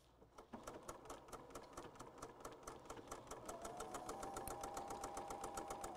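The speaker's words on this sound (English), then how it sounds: "I'm going to sew to the corner and I'm going to stop with my needle down." Sewing machine stitching a quilt toward a corner, a rapid, even mechanical clatter of needle strokes at close range, steady and slightly faster toward the end.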